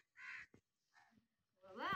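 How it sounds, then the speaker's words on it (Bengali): A crow caws in a few short, harsh calls, fairly close, with a voice and other talk heard between and over the calls. "ওই কাক ডাকছে"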